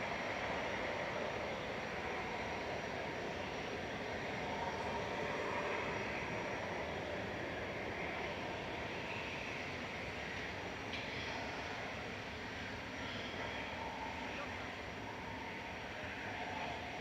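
An airliner taking off at Manchester Airport makes a long, steady jet roar that holds at a distance and fades slightly toward the end.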